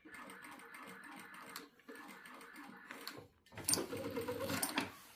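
A Sunstar KM-2350A sewing machine stitches at half the set stitch length, giving a fast mechanical whir that runs in short bursts, louder and busier toward the end, with brief pauses between runs.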